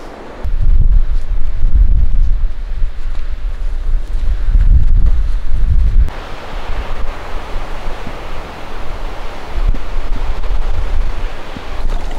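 Heavy mountain wind in Sweden's Sarek National Park roars and buffets the microphone in low rumbling gusts, then shifts to a steadier hissing rush, loud and continuous throughout.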